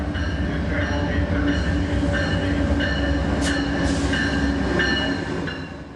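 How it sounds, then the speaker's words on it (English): The northbound Coast Starlight passenger train rolls into a station with a loud, close rumble, rail clatter and brief squealing wheels, the noise easing off toward the end. "Arriving shortly will be train number 14, the Northbound Coast Starlight."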